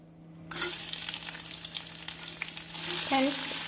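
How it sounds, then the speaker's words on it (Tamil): A loud sizzle erupts as chopped onions hit hot oil, then a steady crackling fry continues with a few stirring clinks. "மசாலா நன்றாக பொரியவும் நறுக்கிய வெங்காயத்தை சேர்த்து விடலாம்"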